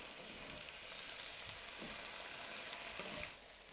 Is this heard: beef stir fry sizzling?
yes